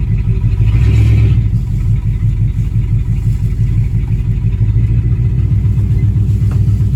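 A 1972 Ford F-100 Ranger XLT bump-side pickup, hot-wired after sitting more than ten years, idles with a steady, loud low rumble, the engine running continuously and alone.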